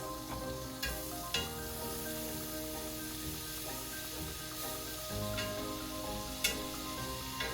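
Butter melting in a pan on a gas stove gives a steady low sizzle, broken by a few soft clicks and light taps of stirring.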